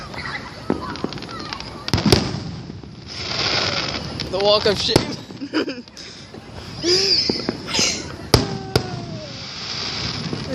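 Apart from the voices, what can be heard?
fireworks exploding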